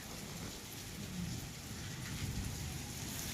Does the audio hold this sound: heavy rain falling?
yes